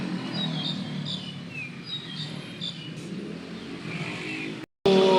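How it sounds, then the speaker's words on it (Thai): Heavy traffic on Narathiwat Road in Bangkok, a steady wash of engines and passing cars with birds chirping above, cut by a brief silent gap near the end. "ถนนนราธิวาสนี่ก็รถติดมาก ๆ เลยวันพฤหัสวันนี้เนาะ"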